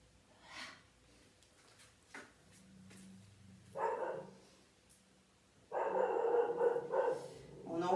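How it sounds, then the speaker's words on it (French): A dog barks outdoors, left alone outside, in a few separate bursts, the later ones louder and longer, with quiet gaps between them. "c'est mon chien que vous entendez qui n'aime pas être toute seule dehors."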